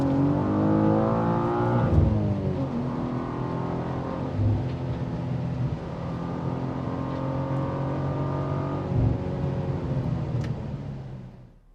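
A new BMW M2 drives hard through corners, its engine note rising and falling in steady harmonic sweeps with brief shifts around the turns, heard from inside the car, continuous and fairly loud with no talk.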